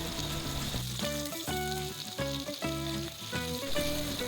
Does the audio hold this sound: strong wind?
no